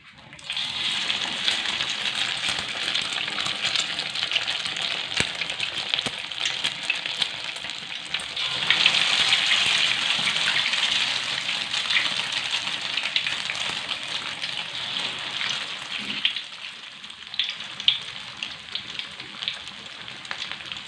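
Egg-dipped tofu stuffed with chicken frying in hot oil, a steady dense sizzle and crackle that carries on without break, close and fairly loud, with no talking.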